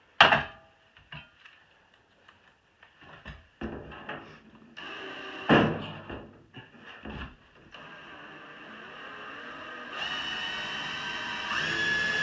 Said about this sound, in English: I just took a screw and put it in the metal and hit it with the hammer